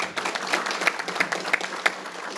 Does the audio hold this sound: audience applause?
yes